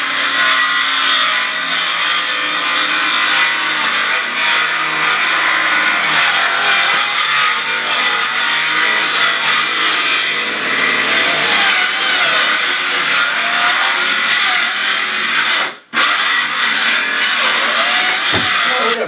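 A saw cuts steadily through a faux brick panel for nearly twenty seconds, a loud, close, continuous rasping grind with one brief break near the end.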